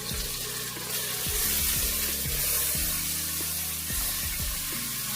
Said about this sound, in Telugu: చికెన్ వేసుకొని బాగా ఫ్రై చేసుకోవాలి.